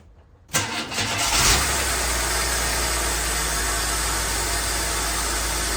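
An old Holden VN car that had sat unused for twenty years cranks briefly and catches, then settles into a steady, loud, even running idle that continues without a break.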